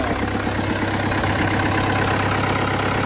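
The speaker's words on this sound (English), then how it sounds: "got that sound of a diesel" A Cummins diesel engine idles in a 1997 Jeep Wrangler TJ, a loud, close, steady rumble with a fast rhythmic clatter that holds evenly throughout.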